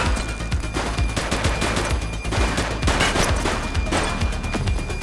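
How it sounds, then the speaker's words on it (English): Gunfire in The Precinct video game, rapid sustained bursts of automatic shots and overlapping loud reports, continuous and close for several seconds. "He's shooting!"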